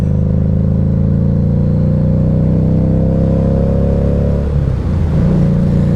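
A car engine roars loudly and continuously with a steady revving drone, its pitch shifting near the end as the throttle changes.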